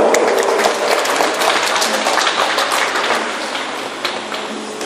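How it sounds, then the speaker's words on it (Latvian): Crowd applause at a hockey tournament award ceremony, loud sustained clapping from many hands that tapers slightly toward the end. "Aplausos arī viņam."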